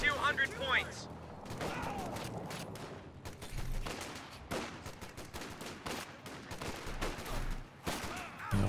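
Rifle fire from BAR riflemen in the Company of Heroes 2 strategy game crackles in rapid bursts and scattered single shots, mixed with game effects at moderate level, with a voice talking over the action.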